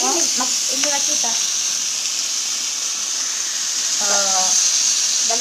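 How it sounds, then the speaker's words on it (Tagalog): Danggit, dried rabbitfish, sizzles and hisses steadily in a frying pan, a constant close crackle with brief voices chatting over it at the start and near the end. "Nagluto ng isda, oh."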